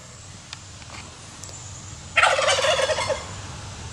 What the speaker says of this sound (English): And a bunch of turkeys.